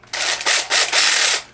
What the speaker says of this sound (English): You will also get a 3/8 ratchet, which is power ratchet. It reverses.